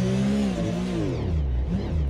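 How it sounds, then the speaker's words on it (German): A Porsche 911 GT3 Cup race car engine in a racing video game starts and revs hard, its loud, close engine note climbing and dropping in pitch with no talk over it. "Wir machen den Motor an, machen den Limiter an"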